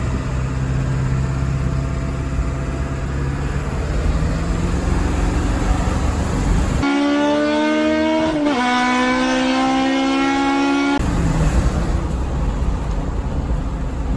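A stock Ford 7.3 Power Stroke diesel with a stock intake and an upgraded H-pop runs loud and close, its steady drone rising into a revving surge in the middle before settling back.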